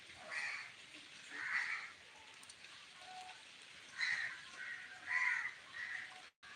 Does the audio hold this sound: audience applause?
no